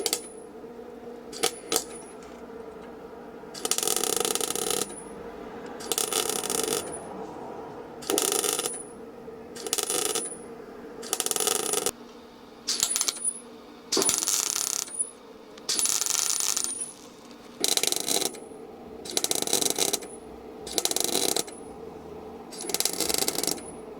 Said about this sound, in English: shut your eyes when you start welding